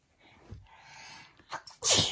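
A sharp, close sneeze bursts out after a short breathy intake, loud against an otherwise quiet room.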